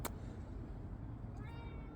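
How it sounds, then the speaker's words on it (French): A neighbour's cat meowing indoors, a short, faint meow heard close by over low background hum. "Ça c'est le chat de ma voisine, c'est ma mascotte."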